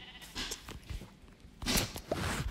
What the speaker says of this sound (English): I see another sheep.